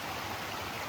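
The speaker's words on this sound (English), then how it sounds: "I came down here to the creek to wash my hands" Creek water flowing steadily over rocks in a wilderness forest, a close, continuous rushing babble heard alone in a brief snippet.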